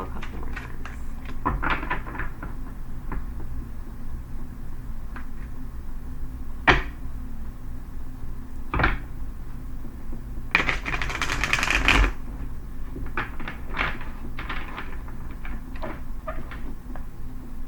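A deck of tarot cards being shuffled by hand during a card reading, with soft riffling and tapping bursts repeating irregularly, close and fairly quiet, with no talking.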